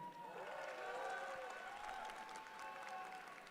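Guests at a wedding reception applaud and cheer for the MC, a lively burst of clapping that swells and then tapers over a few seconds with a few raised voices.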